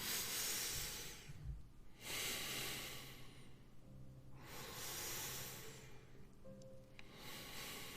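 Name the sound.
slow breathing in and out during meditation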